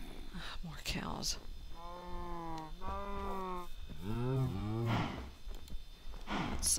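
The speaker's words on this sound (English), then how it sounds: "So many cows over here." Several Minecraft cows mooing in a row in an open field, drawn-out lowing calls repeated close by against a steady game background.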